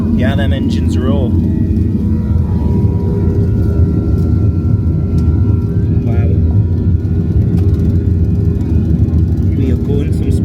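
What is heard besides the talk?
jet airliner engines roaring on takeoff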